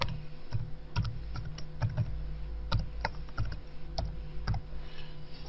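Typing on a computer keyboard, a run of close, irregular key clicks over a low steady hum, with no single keystroke standing out from the rest.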